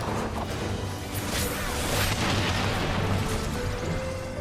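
Dense, roaring missile explosions in the game Final Fantasy XIV: Endwalker, one continuous loud wash of booms and whooshes that swells in the middle and fades slightly, with no voices.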